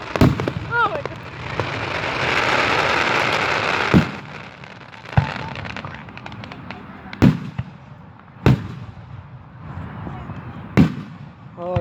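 A Fourth of July fireworks show in Delaware, Ohio, in 2019: a crackling hiss of bursts in the first few seconds, then several heavy booms spaced a second or two apart. A voice can be heard in the background.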